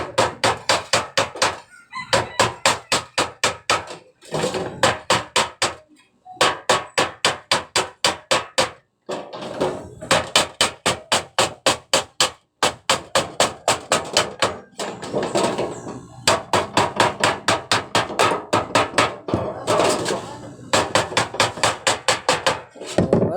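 A hammer pounds the end of a metal pipe flat with rapid, evenly spaced sharp strikes. The blows come in loud, close bursts with short pauses between runs, and no one speaks.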